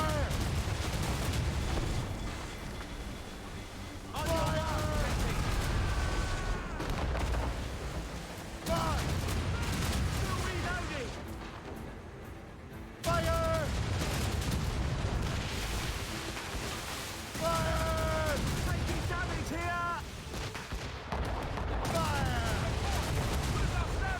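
Ship cannons fire from a man-of-war in the video game Assassin's Creed Rogue, with heavy booming volleys arriving in several bursts separated by short lulls, and voices talking between them.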